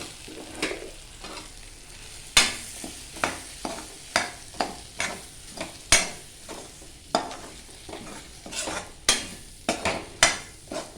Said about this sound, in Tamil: மிளகாத்தூள் எல்லாம் கலந்த மிளகாத்தூள் மஞ்சத்தூள் நல்லா வதக்கணும்